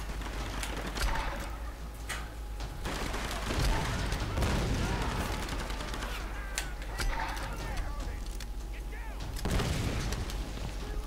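Scattered gunshots and mechanical clatter from a Tomb Raider firefight ring out at moderate distance over a noisy, rumbling game backdrop, with a few sharper bursts standing out.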